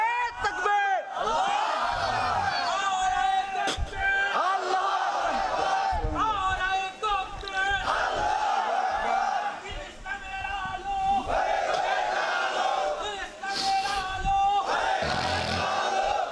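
A large crowd roars a loud collective chant in the response to a takbir call at a religious gathering, with several swelling bursts of voices and shouts filling the whole stretch.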